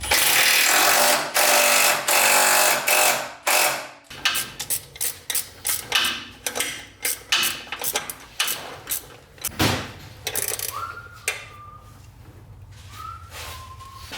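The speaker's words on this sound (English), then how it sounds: "Ben happened to have red Loctite, so I pulled the flex plate bolts back out, put red Loctite on, torqued them back down" A ratchet tightens the flex plate bolts on a Cummins diesel being swapped into a 6.4 Ford truck. A burst of loud broadband noise is followed by a run of sharp, close clicks and clanks that gradually thin out.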